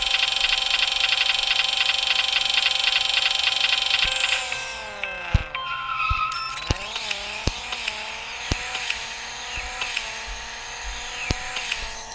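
A high mechanical engine whine holds steady, then drops and wavers, broken by sharp clicks and bumps, as cars including a Corvette ZR1 slide and spin in the video game Racing Rivals.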